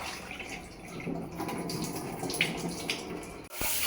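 Water runs continuously from a tap over lentils being washed, with soft splashing and swirling, ending in a brief clatter and a louder rush.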